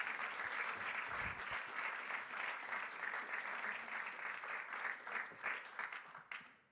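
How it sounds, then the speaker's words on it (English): Audience applause after a debate, sustained dense clapping from a group with individual claps audible, steady throughout and tapering off at the end. "Big round of applause for everybody."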